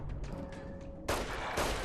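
Gunfire from the video game Fallout: New Vegas, Dead Money DLC, bursts in sharply over a background hum, with a couple of loud shots in quick succession.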